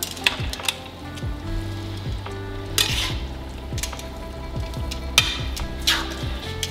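Chow mein noodles are tossed with tongs in a frying pan, a busy mix of soft sizzling, squishy stirring and repeated metallic clinks and scrapes, with several louder clatters spread across the clip.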